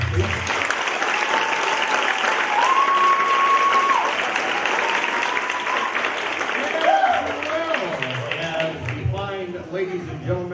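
Theater audience at a community Christmas show bursts into sustained, dense applause that holds steady for most of the stretch, with a few whistles rising above it and the clapping thinning toward the end.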